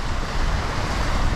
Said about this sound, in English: The waves definitely got bigger.